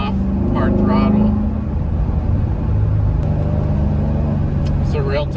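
A car driven under hard throttle on a road rally, its engine a loud, steady low rumble that swells and eases as the driver lifts off and gets back on the power.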